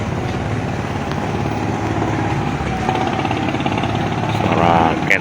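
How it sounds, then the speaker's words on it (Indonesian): Ketek motorboat engines and larger boats on the Musi River in Palembang on a rainy morning, a steady rattling, chugging drone that stays continuous and fairly loud and swells slightly near the end. "Suara ketek, suara kapal besar menghiasi suasana pagi di Sungai Musi."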